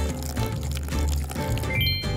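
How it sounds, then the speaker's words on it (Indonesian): Fresh water poured onto a newly planted plant, a continuous splashing, gurgling flow with a brief lighter trickle near the end. "Pasti perlu disirami. Udah kusiapin air segar."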